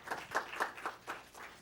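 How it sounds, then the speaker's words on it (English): A short burst of applause at a press conference, a handful of distinct claps in an uneven rhythm, fairly faint and brief, as from a small group of people in the room. "Yes, round of applause."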